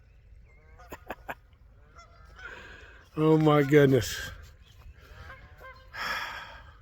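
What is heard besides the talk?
geese honking on a pond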